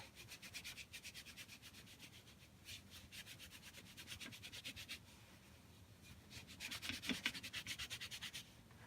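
An aluminium foil ball is polished with soft felt, making repeated quick rubbing strokes in bursts, a faint close-up scratchy swish with short pauses between passes.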